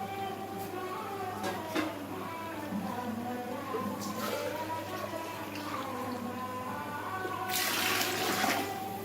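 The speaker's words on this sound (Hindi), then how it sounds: "तो अब पानी शामिल कर देंगे।" Water pours steadily into a cooking pot of rice, chickpeas and yogurt for a Pakistani chickpea rice dish, a continuous rushing splash that swells louder near the end, with faint voices in the background.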